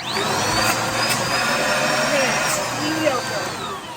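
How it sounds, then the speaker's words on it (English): Dirt Devil Multisurface vacuum cleaner with an 8-amp motor, running steadily with a continuous broadband suction roar that stays loud and even throughout, with a person talking over it. "I guess we can try the suction on this."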